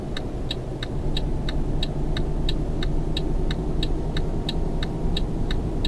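A car in Euro Truck Simulator 2 passes alongside a truck on the road, heard as a steady engine rumble with a regular ticking, likely an indicator, running evenly throughout.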